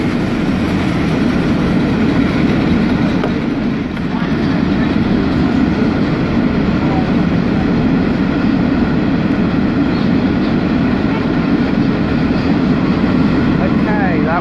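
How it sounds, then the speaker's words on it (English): A limestone freight train rolls through platform 2 of a Sydney-area station, giving a loud, steady rumble of wagons with faint clickety-clack that persists throughout, with people talking nearby. "We have a limestone train about to pass"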